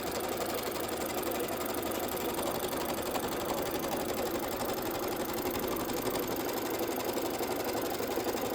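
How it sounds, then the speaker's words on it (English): An embroidery machine stitches directly onto quilt batting for a pillow project, giving a fast, steady mechanical chatter with a constant rhythmic clatter that runs unbroken at close range with no talking. "We're just going to stitch this out directly on our batting."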